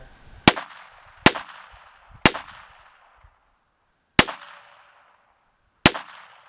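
Five sharp pistol gunshots fired one at a time at uneven intervals, each a loud crack with a short decaying ring, with quiet between shots.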